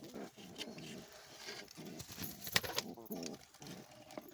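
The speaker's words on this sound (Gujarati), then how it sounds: "એક કબૂતર આમાં છે આપણું." Pigeons in a coop, with soft low cooing and fluttering movement, and a sharp rustle or clatter midway, under a quiet voice.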